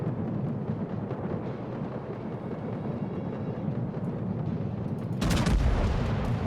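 Dense blind-fire gunfire in a naval battle video game, a continuous rumbling barrage with a louder burst of shots near the end.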